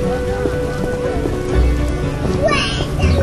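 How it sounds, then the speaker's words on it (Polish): Steady rain patters down across the whole stretch in a Witcher video game, a dense, hissing wash, with brief voice-like sounds rising over it. "Pada deszczyk, pada, pada sobie równo."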